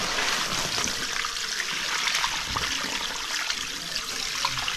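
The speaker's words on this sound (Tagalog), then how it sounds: "Tatapon na natin yung tubig kasi bumaba na yung pinaka-powder" Water pours and splashes steadily for several seconds, a continuous broad rushing trickle with no voices.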